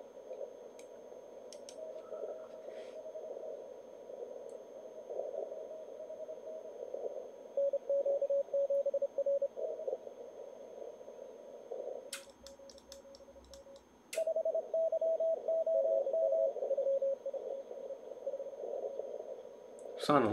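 Morse code CW on the 40 meter amateur band, received on an Elecraft K4 while chasing a Galapagos station: steady sidetone beeps keying in dot-dash rhythm over a hiss of band noise, with a few tuning clicks and a brief burst of louder signal.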